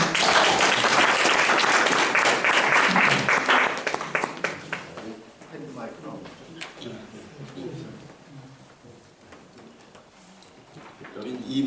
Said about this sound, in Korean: 박수를 모시겠습니다